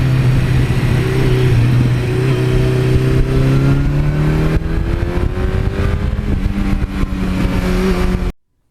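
A 1982 Suzuki GS1100E motorcycle on twisty back roads, its engine droning loud and close with steady pitch swings as it accelerates and eases off through the bends, then cutting out abruptly at the end.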